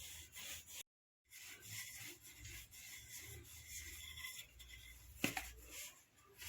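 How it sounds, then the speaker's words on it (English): Donut dough flattened with a rolling pin, a close, steady rolling rub with repeated back-and-forth strokes, a brief silent gap early and one sharp knock near the end. "Then you take your rolling pin and start flattening it."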